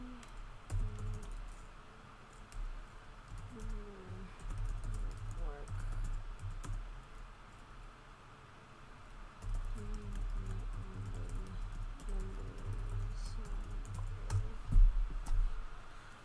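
Bursts of rapid typing and clicking on a computer keyboard during a Google search come in two stretches separated by a quieter pause, close-up, with a voice talking over parts of it.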